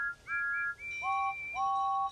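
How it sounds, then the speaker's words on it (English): Cartoon train engines toot and whistle at a celebration, several clear tonal whistle blasts of different pitches following one after another, some overlapping, bright and fairly loud. "All the engines hooted and tooted and whistled and blew"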